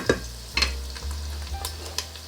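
Onion and garlic sizzle in butter and vegetable oil in a hot pan, with a steady frying hiss broken by several scraping stirs, close and clear.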